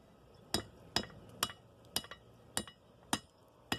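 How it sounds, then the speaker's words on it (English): Metal being bent over the edge of an anvil, shaping spring tongs, rings with seven sharp hammer strikes spaced about half a second apart, bright and close, with no talking. "we're just going to bend this over the edge of the anvil"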